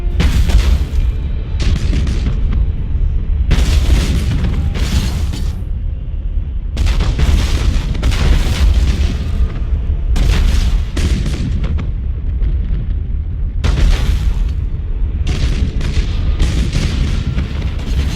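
Warship broadsides and explosions in Battlefleet Gothic: Armada, a loud, continuous low roar broken by repeated sharp bursts and booms throughout.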